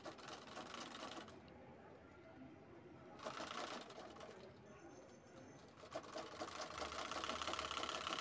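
Sewing machine stitching the sides of a cloth bag, heard in short bursts of rapid mechanical whirring that start and stop between quieter gaps, fairly close and moderately loud.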